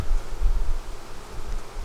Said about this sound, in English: there's a lot of bees there